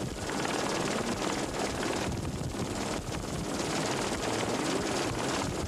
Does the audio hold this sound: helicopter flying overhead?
yes